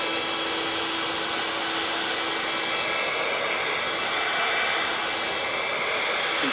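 A crafting heat tool blows hot air onto a card, a steady loud whooshing hiss with a faint constant whine that runs without a break, close up and with no speech.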